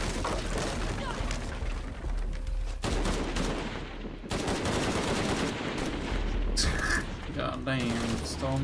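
Gunfire in the video game Tomb Raider 3, bursts of rapid shots and booms over a continuous loud background, with voices speaking amid the fighting.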